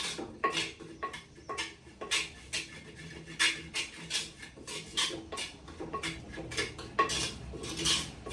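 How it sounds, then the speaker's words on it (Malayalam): A spoon stirs and scrapes spices in a hot clay pot, with repeated close, crisp scraping strokes and light clinks in an uneven rhythm over a quiet background. "കരിഞ്ഞു പോവാത്ത രീതിയിൽ ഒന്ന് ഇളക്കി കൊടുക്കണേ"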